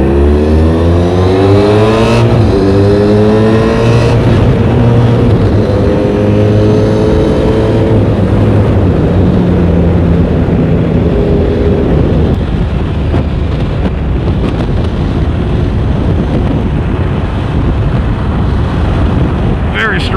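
A Honda VFR1200F motorcycle accelerates hard on a test ride after maintenance, engine pitch climbing through several gear changes amid heavy wind rush, loud and close.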